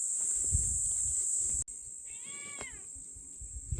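A food forest cat outdoors gives one clear, drawn-out meow after a sudden cut in the sound, over a constant high insect-like whine and a low rumble of wind or handling noise.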